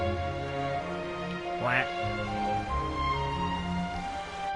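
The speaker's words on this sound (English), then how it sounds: "And he'll do like different quacks and stuff." Rubber duck quacking in the underwater video game ABZÛ, a short rising squeaky quack over steady tonal game music with a voice talking throughout.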